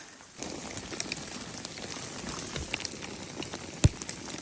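Hail pelting down outdoors makes a soft, steady patter of many small impacts, with one sharper knock near the end; faint and continuous, no voices.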